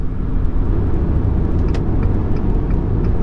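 Fiat Toro Freedom 2.4 pickup with a nine-speed automatic cruising at about 110 km/h, a steady loud interior rumble of road and engine noise with a constant whirring drone throughout.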